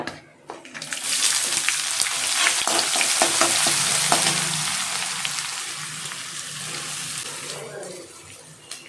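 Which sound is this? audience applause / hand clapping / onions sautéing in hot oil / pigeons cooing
onions sautéing in hot oil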